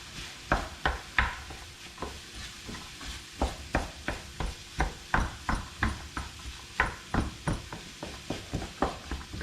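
Carrots and other vegetables are stirred in a pan for a seafood shepherd's pie. Repeated scraping strokes sound close and fairly soft, with a steady, uneven rhythm of about two per second.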